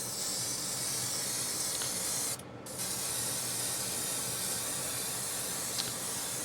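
An airbrush spraying thinned paint at just over 20 psi onto an MPC Star Wars Shuttle Tydirium model kit gives a steady, close hiss that stops for a brief moment partway through, then resumes evenly.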